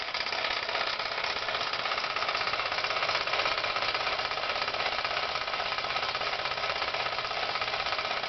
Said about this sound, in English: Rather lovely for a perhaps 90-year-old engine, and certainly running smooth and strong.